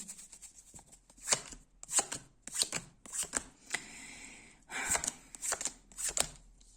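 A deck of tarot cards riffled and shuffled several times in quick bursts, close up, with short pauses between each shuffle.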